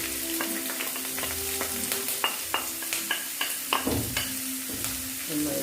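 Chopped onions and green chillies sauté in coconut oil for a mushroom pepper roast, giving a soft continuous sizzle broken by frequent clicks and scrapes of stirring, with no talk.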